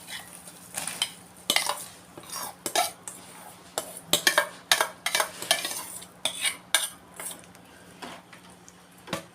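Boiled potatoes added to a simmering puri curry in a pot and stirred, with a run of irregular metal clinks and scrapes of a spoon against the vessel, close and moderately loud, with no talking.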